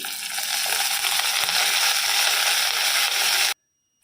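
Garlic cloves and curry leaves frying over a low flame, producing a loud, dense, continuous sizzle that cuts off abruptly near the end.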